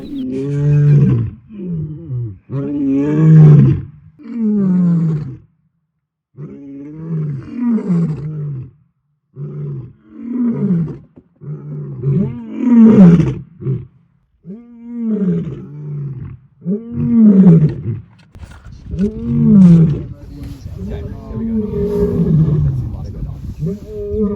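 Lions roaring near the Londolozi airstrip: a long series of deep, rhythmic grunting roars, loud and fairly close, repeating in pulsing bouts with short gaps between them.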